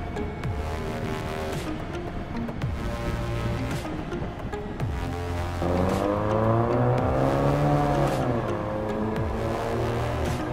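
Suzuki V-Strom 1000 motorcycle with a loud aftermarket exhaust muffler, its engine droning steadily and then revving up and easing back through rising and falling pitch, loud and close throughout.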